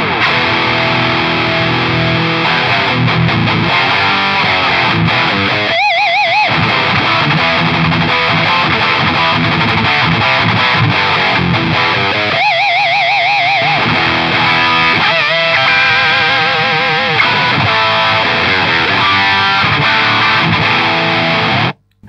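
Electric guitar runs through a fat distortion pedal with the drive turned up high, producing a loud, sustained, gritty tone with strong mids and highs. Playing continues at close range for the whole stretch, with no voices.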